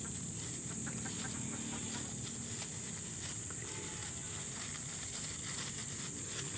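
Ducklings being fed rice, their soft peeping calls running continuously at a moderate level over a steady background hiss, with no talking.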